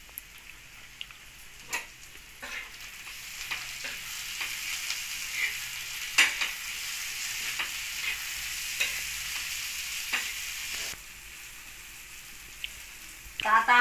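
Tomatoes go into well-fried onions in a pan for egg bhurji, producing a continuous, moderate sizzle dotted with scattered spatula clicks and taps up close.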